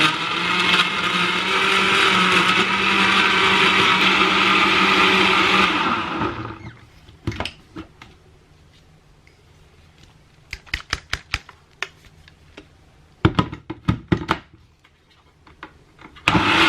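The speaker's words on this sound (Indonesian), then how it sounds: "Tuh ini kunyitnya udah di blender." A kitchen blender grinding turmeric runs loud and steady for about six seconds, then cuts off, leaving scattered clicks and knocks of handling the jar and lid.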